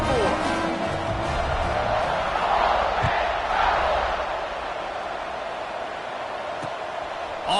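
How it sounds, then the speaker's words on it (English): Football stadium crowd buzzing after a long touchdown run, a dense, loud wash of many voices and cheers that swells briefly and then settles into a steady roar, with a commentator talking over it. "this crowd is buzzing after that last score."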